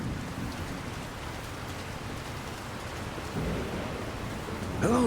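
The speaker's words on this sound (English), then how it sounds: "It's raining." Steady rain in The Lord of the Rings: War in the North, a dense, even hiss of falling water that holds at a moderate level throughout, with a short voice-like sound rising at the very end.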